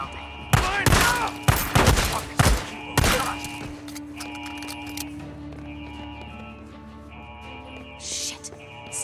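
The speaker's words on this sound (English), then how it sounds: "Multiple shots have been fired." Gunfire in the Days Gone video game: a rapid fusillade of loud, close shots in clustered bursts during the first few seconds, then fading to a quieter background hum with sparse distant sounds.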